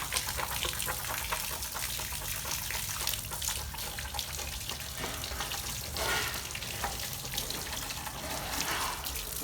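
Water is poured, a continuous rushing splash that holds steady for several seconds at moderate level, with no talk.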